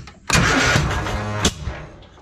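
An abandoned Argo amphibious vehicle's engine cranks and catches with a loud, rough burst that runs about a second before cutting off abruptly, leaving a fainter tail behind.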